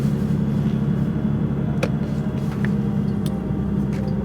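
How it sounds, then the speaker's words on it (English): A Lexus IS drives down a dark, poorly lit residential street at night, a steady low engine and road hum holding throughout with a few faint ticks, and no talk. "Driving down a street that barely has any street lights."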